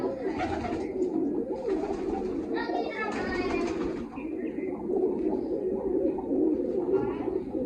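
Large pigeons and hens offered for sale coo in low, rolling bursts throughout, close and fairly loud, with someone talking over them.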